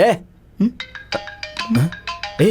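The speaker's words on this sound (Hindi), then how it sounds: "आद्या का फोन है।" A mobile phone ringing with a synthetic tonal ringtone in short repeated phrases, heard under and between voices in a scene from a South Indian film.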